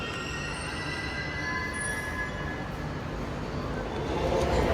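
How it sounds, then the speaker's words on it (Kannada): A metro train pulls into RV Road station in Bengaluru with a steady, close rolling rumble and high, drawn-out wheel squeals that hold throughout, getting slightly louder near the end. "ನಮ್ಮ ಟ್ರೈನ್ ಇವಾಗ ಬಂತು ಗೈಸ್, ಇವಾಗ ಹತ್ಕೋಬೇಕು."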